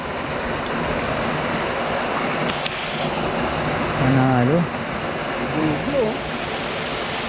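Strong water pours over Kipot Falls in a constant, dense rushing roar, while people talk and call out briefly over it.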